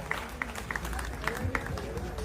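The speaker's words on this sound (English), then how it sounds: "I'll clap for Rich Obama" An audience claps for Rich Obama at a talk show, with scattered, uneven hand claps at middling distance over a steady room murmur.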